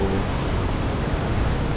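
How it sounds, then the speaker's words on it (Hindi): The fast-flowing Saraswati river near Mana village in the Himalayas roars in a loud, steady, unbroken rush of water heard up close, with no voices over it. "नदी का जो प्रवाह है उसकी आवाज़ बहुत ज़्यादा है।"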